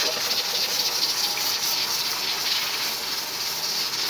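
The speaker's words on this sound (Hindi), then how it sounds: "तो ये थोड़ा सा पानी ऐड किया।" Water gushes steadily into a pot of turmeric and spice mixture for haleem, a continuous close pouring rush lasting a few seconds without speech.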